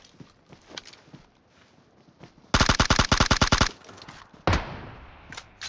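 PUBG gunfire: a rapid automatic burst of about a dozen sharp shots, loud and close, followed by a single heavy shot and a few fainter distant cracks over a quiet background.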